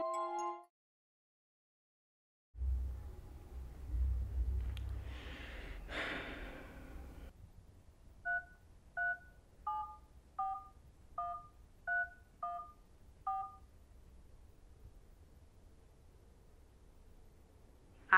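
A telephone is dialed, a row of about ten short, evenly spaced keypad tones, clear and fairly quiet, following a moment of heavy breathing and sighing.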